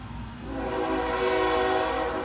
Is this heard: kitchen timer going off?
yes